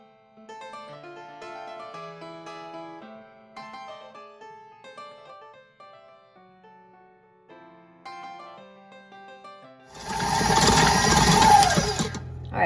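A stand mixer's paddle creams butter and light brown sugar for pumpkin spice cookie dough, its loud motor whirring in close up after a stretch of soft background music.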